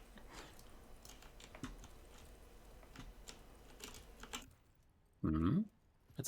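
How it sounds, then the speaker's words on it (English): An old typewriter in the video game Daymare 1998 clacks out a rapid run of key strikes for several seconds, quiet and close, ending before a brief heavier thump. "It's an old elegant typewriter."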